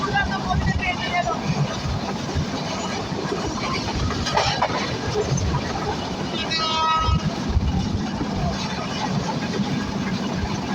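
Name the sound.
Silk City Express train running at high speed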